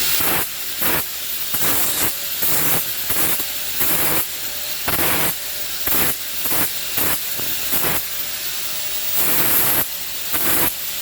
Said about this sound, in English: Just deburring this piece of angle here.